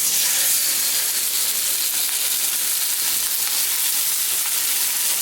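Canola oil sizzles and spits steadily in a pan as food fries, a dense continuous hiss close up with no voices over it.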